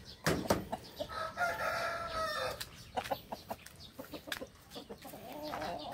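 An old hen clucks and squawks repeatedly in short, uneven bursts, fairly close, with other chicken calls and farmyard noise around it.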